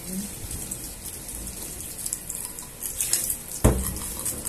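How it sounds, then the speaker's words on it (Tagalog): Running tap water splashes steadily onto a frying pan coated in sticky chicken marinade residue, a close continuous hiss with a brief clatter of the pan near the end. "hugasan natin to ng ating pan"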